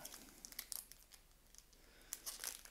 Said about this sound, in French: Donc on va essayer.